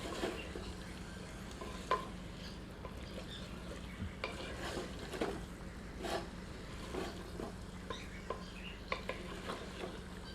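Ladle stirring handi chicken curry in a small clay pot, with repeated scraping knocks against the pot over a steady low sizzle, close and fairly quiet, no talking.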